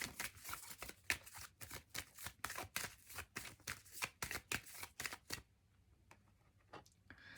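Tarot cards are shuffled by hand at close range in a rapid run of crisp, rhythmic riffling bursts that then thin out into a few softer, sparse taps, with no talk.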